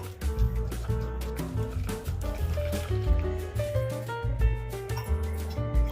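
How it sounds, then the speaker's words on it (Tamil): Water is poured bit by bit into henna powder and stirred into a runny paste, giving soft wet squishing and sloshing sounds in a steady, close, fairly quiet rhythm, with no talk. "கொஞ்சம் கொஞ்சமாக தண்ணி ஊற்றி இந்த மாதிரி மிக்ஸ் பண்ணி எடுத்துக்கோங்க."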